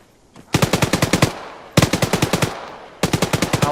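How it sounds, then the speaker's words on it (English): Rapid automatic machine gun fire from an MG in the video game ARMA 3, three loud close bursts of about eight to ten shots each, separated by short pauses. "As long as we continue to hear that rapid gunfire from our MG over there"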